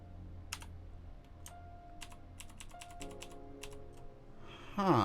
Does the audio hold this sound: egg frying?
no